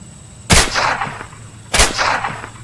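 Two loud rifle gunshots in the sniper video game Lonewolf, evenly spaced about a second apart, each a sharp crack with a short rumbling tail over a steady low background hum.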